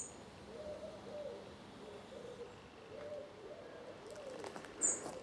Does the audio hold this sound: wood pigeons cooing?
yes